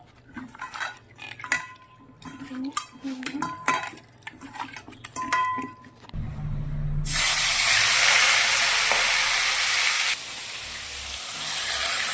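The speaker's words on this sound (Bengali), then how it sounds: "হলুদ মাখিয়ে নিয়েছি, মাছটাকে ধুয়ে এবার মাছটা আমি ভাজা বসাবো।" Turmeric-coated katla fish pieces drop into hot oil in a pan and set off a loud, steady sizzling hiss that goes on for several seconds, after some earlier clinks of utensils.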